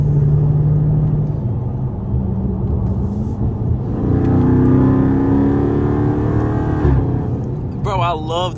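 A Dodge Charger SRT 392 accelerates on a wet road, its engine rumbling loudly and rising in pitch through gear shifts, heard from inside the cabin with a voice talking over it.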